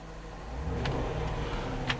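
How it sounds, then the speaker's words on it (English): Engine of a 2011 Jeep Grand Cherokee Laredo with about 49,876 miles revving from idle, a steady low rumble rising slightly with faint mechanical whine, heard from fairly near. "I'm going to rev the engine"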